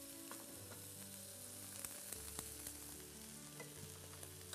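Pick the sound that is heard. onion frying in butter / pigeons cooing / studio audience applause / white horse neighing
onion frying in butter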